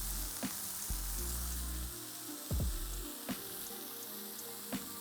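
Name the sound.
burger patties with cheese frying in a pan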